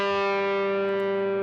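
Crunchy distorted electric guitar tone from the Brick Crunch preset of the Tackle Box distortion plug-in, a single sustained chord ringing steadily and loud throughout with no talking.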